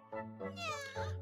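A cat meows in Yo-kai Watch 3 with a few drawn-out, tonal, clear and close cries, one after another and not masked by other sounds.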